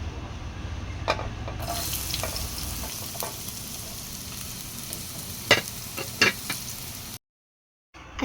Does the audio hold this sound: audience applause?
no